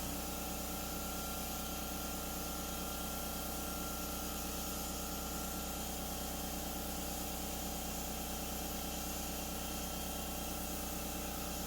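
Paint sprayer applying Behr chalk paint to furniture hisses in one loud, continuous, unbroken spray with a steady mechanical hum beneath.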